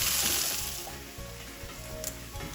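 Onion, ginger, garlic, green chilli and curry leaves sautéing in a pan for kadala curry, a steady close sizzle with soft stirring scrapes and no talk.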